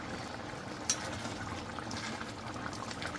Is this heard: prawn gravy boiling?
yes